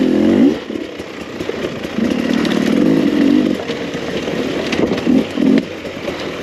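2021 Beta 300rr oil-injected two-stroke dirt bike engine while riding, a buzzing, close engine note that rises and falls with the throttle in uneven surges.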